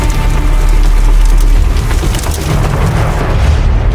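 A car's side window gives way in tornado debris, heard as a loud, continuous roar of wind and crashing, splintering material that lasts a few seconds and smothers every other sound, with no one talking.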